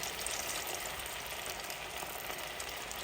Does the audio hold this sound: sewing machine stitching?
no